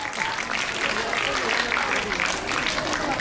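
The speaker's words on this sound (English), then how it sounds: "A huge round of applause for them" Applause from a school audience at an interclass patriotic quiz competition: a steady spread of many hands clapping for about three seconds, fairly close, with a hint of voices underneath.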